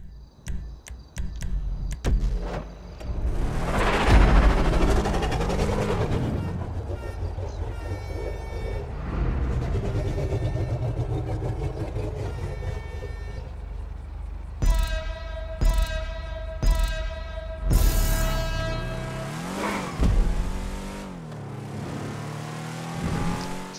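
A modified classic muscle car, the Shyster Deviant in Grand Theft Auto 5, sounds its engine in loud rising and falling revs, followed later by several sharp honking horn blasts.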